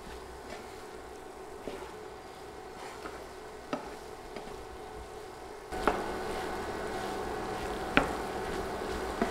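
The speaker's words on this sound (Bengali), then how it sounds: "সব কিছু নেড়ে মিশিয়ে দিচ্ছি" Chickpea curry (chola bhuna) with fresh coriander leaves being stirred and mixed in a pan: sporadic spatula scrapes and taps over a steady low sizzle, growing a little louder partway through, with no talking.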